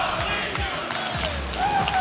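An esports arena crowd roars and chants for G2 at a Rocket League major, a dense, sustained wall of cheering voices swelling slightly toward the end.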